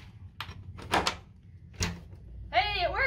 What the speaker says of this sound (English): we now have a door for Rex